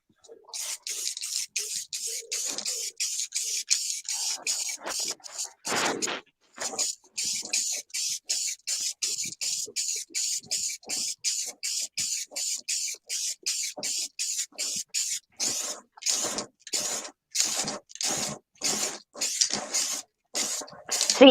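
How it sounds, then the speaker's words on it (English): Spray paint hisses from an aerosol can in many short, close bursts, one after another in a quick uneven rhythm, with brief gaps between them. "I nearly sprayed the wrong paint on it then"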